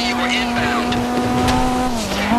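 A car driven during a GTA heist getaway holds a steady, droning engine note at constant speed, with a slight dip in pitch near the end.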